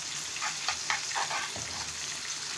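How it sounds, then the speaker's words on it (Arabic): Onion fries in a pan, a steady, fairly quiet sizzle with a few scraping stirs of a utensil near the start, close by and with no talk. "نقلب البصله"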